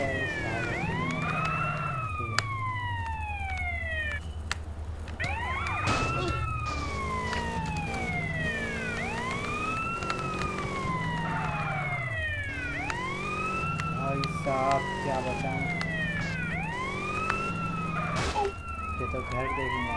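A police car siren wails in the video game GTA San Andreas, rising and falling in a steady continuous cycle, loud and close over engine rumble and game sounds.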